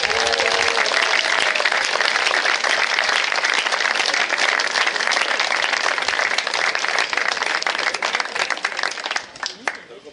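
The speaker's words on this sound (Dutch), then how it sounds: "Mag u daar wat applaus voor Harry van Buurtschot." A concert audience at a fanfare band's closing concert gives loud, sustained applause lasting about nine seconds, dense clapping that thins out and fades at the end.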